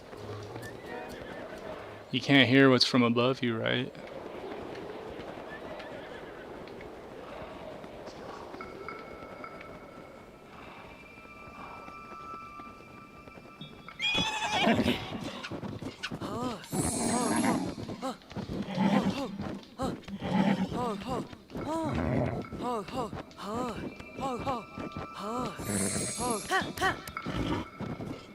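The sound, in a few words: horse neighing and hooves in video game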